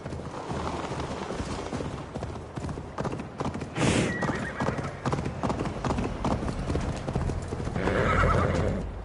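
A horse gallops in Assassin's Creed Valhalla with continuous rapid hoofbeats, neighing at intervals, and game music and ambience layered underneath.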